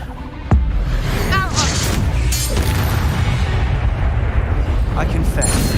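A Depulso spell is cast in the Hogwarts Legacy game world, with a sudden booming impact followed by a rumbling, whooshing swell and scattered clatter that sustains at high loudness.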